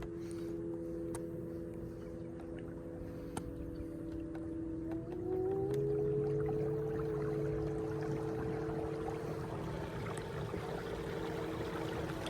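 A skiff boat runs at about half throttle, with a steady close engine drone and tonal whine that rise slightly in pitch partway through, over water rush, with no talk.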